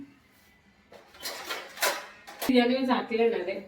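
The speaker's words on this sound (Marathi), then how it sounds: "आता त्याला आपण एक झाकणाने झाकूया" A lid is set onto a cooking pan at a home stove with a sharp metallic clink, then a ringing metal rattle, while someone talks over it in the background.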